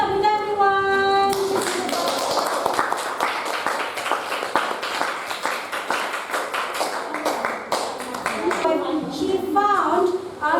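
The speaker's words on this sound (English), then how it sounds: "give applause to Sabina, everyone" A classroom of students claps for their classmate Sabina during an English lesson, a dense burst of hand claps lasting several seconds between short stretches of speaking voices at the start and end.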